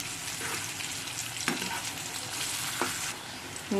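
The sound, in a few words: potatoes frying in oil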